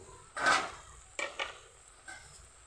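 Malabar spinach greens being stirred in a pan with salt, turmeric and oil: a few soft scraping and clattering strokes of a utensil, one fuller stir followed by two quicker ones and a faint final tap.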